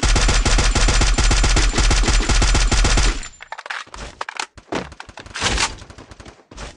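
Video game gunfire: a loud, sustained automatic burst of rapid shots for about three seconds, followed by scattered single shots, cracks and impacts at varying distances.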